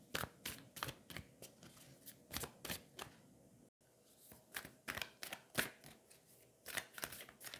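Oracle cards are shuffled by hand in quick, rhythmic riffling bursts, close and faint, with a short break midway before the shuffling continues steadily.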